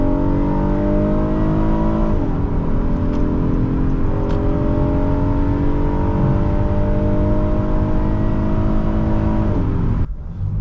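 A 2020 Honda Odyssey Elite minivan drives on a test drive, its engine giving a steady, close hum that rises with speed and drops in pitch at a couple of shifts, with no talking.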